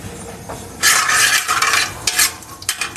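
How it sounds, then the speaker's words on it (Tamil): Mustard seeds crackle and spit in hot oil in bursts of bright sizzling pops, with faint clinks of a utensil in the pan. "கடுகு நல்லா வெடிக்கட்டும்."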